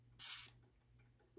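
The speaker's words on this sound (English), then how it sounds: "Spray a little deox." A single short hissing burst of DeoxIT contact cleaner sprayed onto the muting switch of a Kenwood KD-2055 turntable, close and brief, followed by faint quiet handling.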